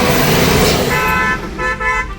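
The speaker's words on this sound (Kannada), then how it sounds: "ಕಾರ್ ಬರ್ತೈತೆ ಒಂದು" A car draws near and sounds its horn in a few short, tonal toots over steady road and engine rumble.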